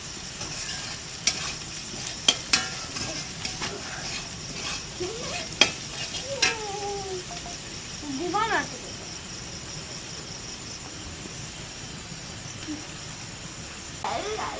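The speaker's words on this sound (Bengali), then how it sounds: "আলু আর পেঁয়াজটা ভালো করে ভেজে নিয়েছি" Potatoes and onions frying in a pan for chow mein in a village kitchen give a quiet, steady sizzle, broken by sharp scraping stirs and clinks of a spatula, with evening insects chirping faintly in the background.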